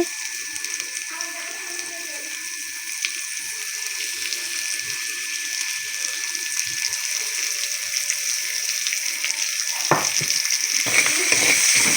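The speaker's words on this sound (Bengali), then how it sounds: "আবারও এখন সর্ষের তেল দেওয়া হইলো করার মধ্যে দিয়ে দেওয়া হইলো কয়েকটা কাঁচা জিরা দিয়ে দেওয়া হইতেছে পেঁয়াজ কুচি" Chopped onion and cumin seeds fry in hot mustard oil, giving a steady, close hiss and crackle that holds throughout and grows slightly louder toward the end.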